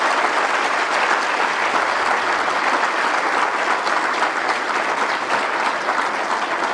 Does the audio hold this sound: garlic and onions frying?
no